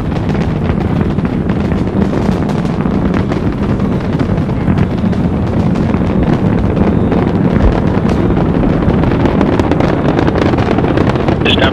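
Space Shuttle Discovery's main engines firing during the STS-29 launch, a loud, continuous roaring rumble with broad crackling noise that holds steady throughout.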